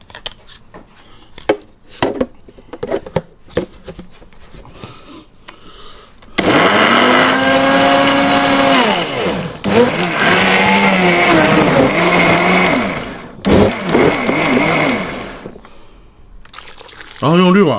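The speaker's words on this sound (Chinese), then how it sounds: "咱把西瓜加入到这个料理机当中。" A food processor blends watermelon flesh. A few knocks and clatters come first, then a loud whirring motor runs for several seconds, stops briefly and starts again in a shorter burst.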